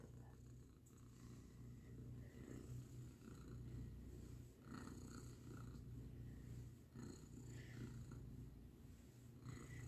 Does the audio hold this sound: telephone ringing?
no